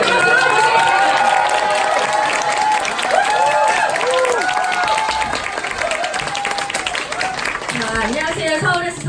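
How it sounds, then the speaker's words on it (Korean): A large crowd at a business group meeting claps continuously, with cheers and excited shouts rising over the applause throughout. "큰 박수로 모시겠습니다."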